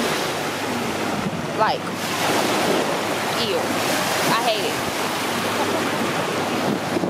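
Ocean waves surge and wash onto a beach while wind buffets the microphone in a constant roar, and a voice speaks briefly over the surf.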